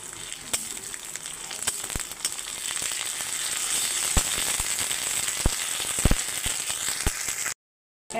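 Ginger-garlic paste frying in hot oil with onion, dried chilli and bay leaf, a close, steady sizzle dotted with sharp pops and crackles, ending in abrupt silence.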